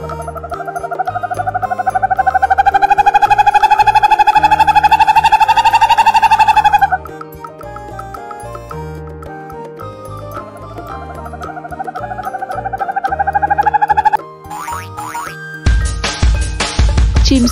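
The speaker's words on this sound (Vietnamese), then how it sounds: "Con cú mèo." Owl hoots, long tonal calls that rise and hold steadily over a looping children's music bed, with a brief sound effect near the end.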